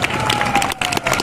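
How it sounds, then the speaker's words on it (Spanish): Street crowd in the historic centre of Oaxaca applauding a clown, with clapping and cheering packed close together in a short, loud burst and a brief dip partway through. "¡Fuerte el aplauso!"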